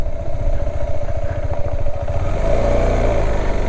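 Motorcycle engine revving steadily in second gear at around 2,500 RPM on a high mountain road in Ladakh, a loud continuous throbbing drone with rapid pulsing firing beats, close and dominant with no talk.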